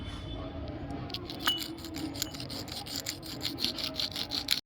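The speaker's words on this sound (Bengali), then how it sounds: "এই যে এখানে ছোট্ট যে ছিদ্রটা রয়েছে সেটা ঘষে নিতে হবে।" Lotus seeds are rubbed against a hard abrasive surface to wear through the seed coat, giving quick repeated gritty scraping strokes in a steady rhythm, close and fairly quiet with no speech.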